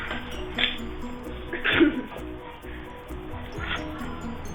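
Slime being mixed in a bowl, heard as a few light clinks and soft rubbing of a utensil against the bowl at irregular moments over a steady background of music.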